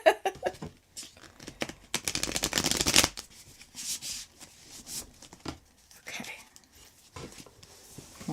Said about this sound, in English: Okay, I'm going to try and shuffle it here.